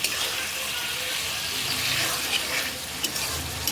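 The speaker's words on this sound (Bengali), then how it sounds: "এই আলু আর পটলটা আমি কষাই নিচ্ছি গাইস। দেখুন সরিষার তেল দিয়ে আসছে ডিম রান্না" Potato and pointed gourd pieces sauté in hot mustard oil, giving a steady, close hiss and crackle with a few sharper pops near the end.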